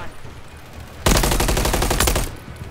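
Rapid automatic gunfire in the Call of Duty MW3 beta, a loud sustained burst of machine-gun shots lasting over a second after a quieter stretch of game noise.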